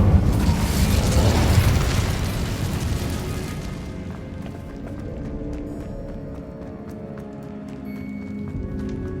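An Incendio fire spell cast in the video game Hogwarts Legacy on PS5 bursts out as a loud, roaring whoosh of flame that peaks early, then fades into crackling embers over a low rumble, with no one talking.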